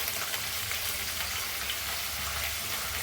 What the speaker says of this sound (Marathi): हे छान भाजून घ्यायचं आहे आणि गरम मसाला टाकून छान वाटून घ्यायचं